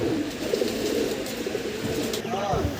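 Four pairs of fancy pigeons coo softly and repeatedly at close range over a steady background hum, with low murmuring voices in the distance.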